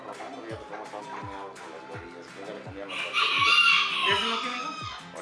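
Fighting roosters in a gallera crow and cluck repeatedly, one loud rising crow standing out midway, over a steady run of short sharp calls with people talking nearby.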